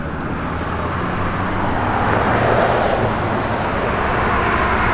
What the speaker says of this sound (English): It's got an H-pipe Magnaflow dual exhaust system on it that's got, sounds awesome.